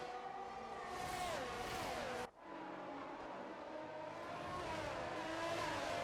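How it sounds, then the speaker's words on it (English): Formula 1 race cars in the F1 22 video game, with an engine whining steadily at high revs and pitch sliding through gear shifts, one brief dip midway, loud and close without talk. "As Carlos Sainz temporarily gets back in front of us down that straight, but in the corners we are so much faster on that medium tyre"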